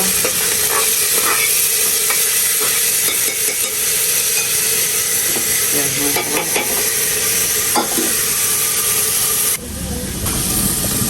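Lentils are stir-fried in a pan while cooking a vegetable dish, with a loud, hissing sizzle and steam under repeated scraping stirs, and the hiss dips briefly near the end before resuming.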